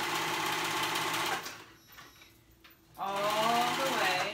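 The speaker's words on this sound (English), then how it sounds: "I'm gonna go ahead and sew those raw edges together." A serger sewing machine stitches the raw edges of a knit dress in a loud, fast whirring run, pauses briefly, then starts up again; speech is also present.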